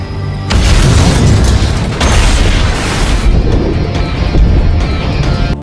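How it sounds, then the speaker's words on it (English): A loud, sustained bomb blast with a deep rumbling roar that swells again partway through and stays dense and heavy until it cuts off. "when he walks on a bridge, a bomb explodes"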